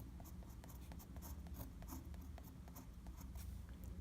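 Pen strokes scratch across paper while a Chinese character is written by hand, the quiet, steady rasp broken by short ticks where each stroke begins and ends, close and faint over a low background hum.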